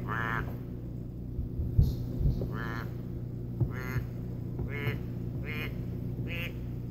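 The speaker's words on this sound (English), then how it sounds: "Duck." A baby toy's animal sound mode plays a recorded duck quacking, about six nasal quacks spaced irregularly over several seconds, with a few soft thumps and a steady low hum underneath.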